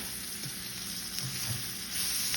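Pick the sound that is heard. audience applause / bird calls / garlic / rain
garlic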